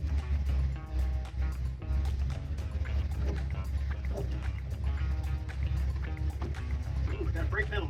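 A 1962 Ford F100 engine idling roughly, a low, uneven rumble that runs steadily throughout with irregular knocks and rattles on top, close by, while a person talks over it.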